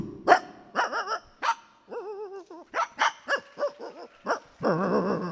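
A human voice imitates a dog, producing a run of sharp, close barks and yips with whimpering, wavering tones in between, loud and alone with short pauses.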